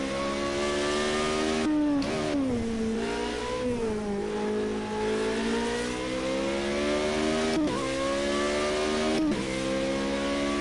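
A Formula Renault 3.5 race car engine in Project Cars 2 screams at high revs, a loud, steady whining drone with pitch rising and falling through gear changes and brief dips.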